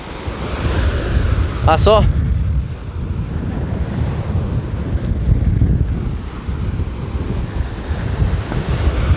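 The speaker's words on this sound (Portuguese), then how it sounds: "Aquela pontinha de pedra ali, a onda vem e bate forte." Ocean surf rolls in and crashes against rocks at Porto de Nassau beach in Pernambuco, a loud continuous rumble heavily buffeted by wind noise, with a person briefly speaking early on.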